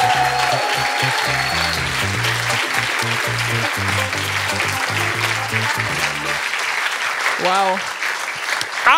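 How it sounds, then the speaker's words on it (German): A studio audience at a comedy game show applauds the winner of a round with loud, sustained clapping and music underneath. A voice speaks near the end. "einen großen Applaus für den Gewinner des dritten Spiels"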